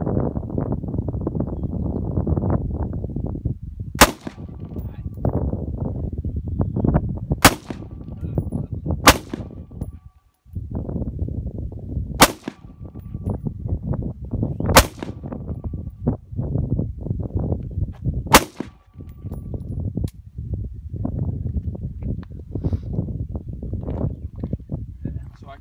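Gunshots fired at an outdoor shooting range in South Texas, about seven sharp loud cracks spaced irregularly a few seconds apart, with people talking throughout between shots.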